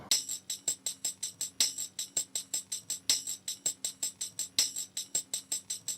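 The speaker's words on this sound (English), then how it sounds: "I just added this tambourine loop" A tambourine loop in a music production session repeats a steady, bright jingle pattern with about four hits per second, close and clear, with no voices.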